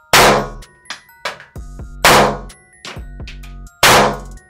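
A Kurs-S K1911 Compact 5.5 mm signal pistol fires three sharp, loud, ringing shots, with lighter metallic clacks and clicks of the action handled between them, close and without talk.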